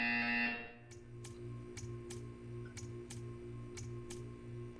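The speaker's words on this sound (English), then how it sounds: "When you hear the buzzer, stare at the art." After a loud opening tone, the Portal 2 buzzer gives about eight short, evenly spaced pulses over a low rhythmic hum, with no talk.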